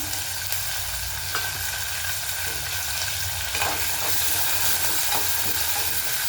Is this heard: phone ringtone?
no